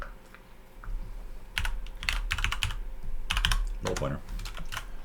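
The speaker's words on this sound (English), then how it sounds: "So typing with one hand" Someone types on a computer keyboard with one hand, producing short clustered bursts of key clicks separated by pauses over a low background hum, close and moderately loud.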